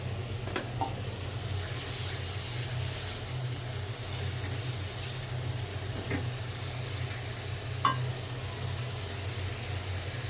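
Spice masala frying in oil for a coral fish curry, a quiet continuous sizzle with a few faint stirring clicks, low in level and without speech.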